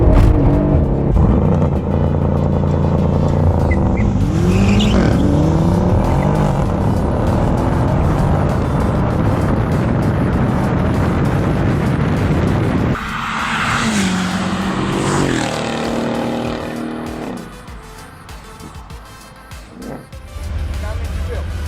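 Tuned BMW M5 Competition and tuned Mercedes CLS63 AMG launch in a drag race, engines roaring loud with wheelspin and tire noise, then a shift in pitch as the cars pull away; someone talks over it.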